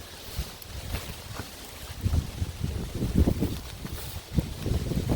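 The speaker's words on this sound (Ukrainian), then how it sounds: "А вітер сильний." Gusty wind in a dry forest buffets the microphone in uneven bursts, a rough low rumble rising and falling throughout with no voices.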